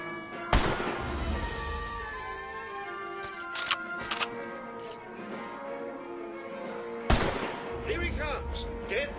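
Video game gunfire at a boss's glowing red weak points: sharp single shots and short bursts ring out over tonal game music and sound effects, with a voice speaking between them.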